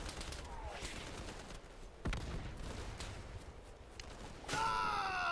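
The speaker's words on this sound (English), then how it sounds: "I'm under fire!" Gunfire rattles through a chaotic firefight in the video game Easy Red 2, with a sharp nearby shot, continuous distant shooting and a whining sweep near the end, while a player calls out under it.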